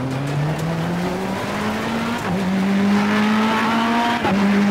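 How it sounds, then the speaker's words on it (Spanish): A Ferrari race car engine in the video game Assetto Corsa Competizione screams at high revs, its pitch climbing through gear shifts with a brief tire squeal, loud and close. "arrancamos el motor, ahí tenemos nuestro Ferrari"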